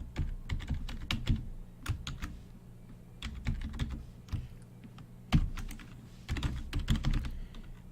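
Typing on a computer keyboard while coding, a steady close run of sharp key clicks with uneven rhythm and occasional harder keystrokes, no speech.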